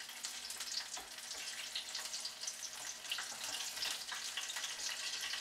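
Banana fritters frying in hot oil give a steady, close crackle and sizzle with dense popping throughout, no voices.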